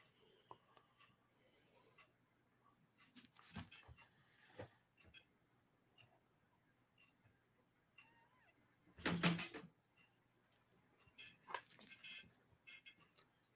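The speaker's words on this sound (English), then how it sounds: "My dog going crazy under the desk." A dog restless under a desk on a shag carpet makes faint scuffles, scratches and bumps at irregular intervals, with one louder rustling burst, all close and quiet in an otherwise still room.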